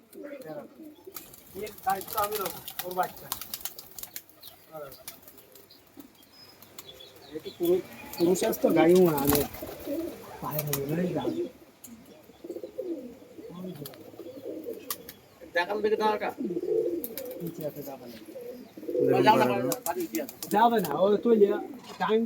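Andhra pigeons coo and flap their wings at a pigeon seller's lofts, soft throaty coos and brief wing flutters mixed in among frequent nearby talk.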